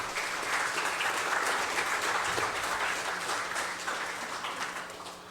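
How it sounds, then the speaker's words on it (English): A crowd applauds panelists at an Indigenous Peoples' Resistance Day forum, a dense, even wash of clapping from a large room that holds steady and then gently fades, with no voices. "Another round of applause for our lovely panelists this morning."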